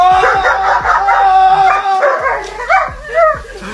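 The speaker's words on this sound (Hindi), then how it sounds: "उसका कुत्ता अपने ओनर को बचाने के लिए जोर जोर से भौंकता है" A dog barks and yips loudly in rapid, agitated bursts mixed with howling whines, close up, while defending its owner from a vacuum cleaner pipe.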